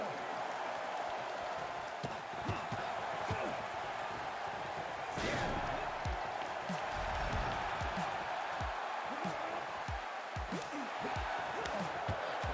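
A wrestling arena crowd cheers and chants in AEW Fight Forever during a match with Ricky Starks and Jeff Hardy, a steady distant roar with thumps of in-ring impacts underneath and a commentator talking over it.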